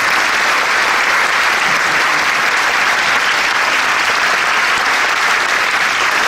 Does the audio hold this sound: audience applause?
yes